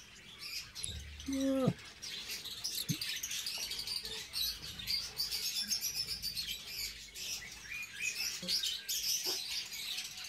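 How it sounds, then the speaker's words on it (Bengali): Newly hatched budgerigar chicks inside a nest box give thin, high chirps and squeaks, faint and fairly continuous, with a few louder knocks and a brief rising squeal near the start. "বক্সের ভিতরেও বাজরিগরের বেবি, 3টা বেবি ফুটেছে"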